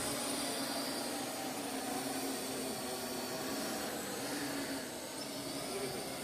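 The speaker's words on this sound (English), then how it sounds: "This is a 60-year-old man flying a remote control helicopter." Parrot drone flying overhead outdoors, a steady whirring buzz like a small motorized fan that holds fairly constant, moderately loud with no talking.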